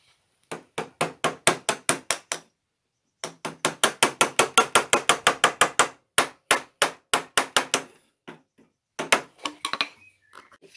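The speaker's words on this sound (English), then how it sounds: "I'm just going to have to use a chisel to chisel out the waste." Chisel chopping out waste wood between drilled holes while building a small extendable workbench: many sharp, close, regular mallet-on-chisel strikes in fast rhythmic bursts, with short pauses between runs and no talking.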